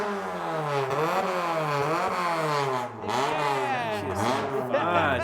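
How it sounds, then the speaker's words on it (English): A modified Kanjo-style Honda Civic exhaust revs repeatedly, the engine note climbing and falling in rising sweeps, loud and close, with a brief dip before revving hard again. "The exhaust!"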